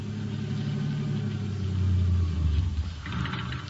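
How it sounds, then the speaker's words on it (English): A car engine idling steadily at close range with a low rumbling drone, swelling slightly midway as if lightly revved, with no voices over it. "All right, now turn off the engine."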